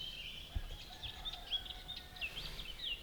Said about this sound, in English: There's a buzzard crying in the background, you hear some chickens.